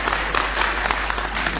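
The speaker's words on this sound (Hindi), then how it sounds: "जोरदार ताली बजा दीजिए" Audience applause at a Hindi poetry gathering (kavi sammelan), dense, loud clapping from a seated crowd that holds steady throughout with a low hum underneath and no speech on top.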